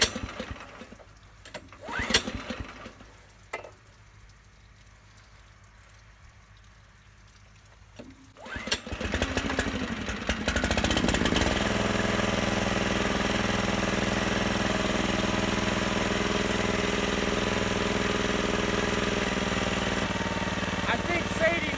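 A small engine fires up after a quiet stretch and settles into a steady, loud, throttled drone that holds to the end. There are some faint background sounds before it starts.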